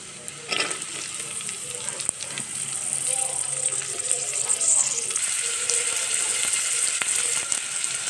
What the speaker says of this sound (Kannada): ಈಗ ಈರುಳ್ಳಿ ಹಾಕ್ತೀನಿ